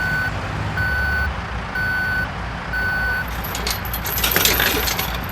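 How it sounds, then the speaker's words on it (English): A tow truck backing up while towing a van gives off steady, evenly spaced reversing beeps over a low engine rumble, followed by a burst of clanking and rattling at the end. "waking up to the sound of your home being towed"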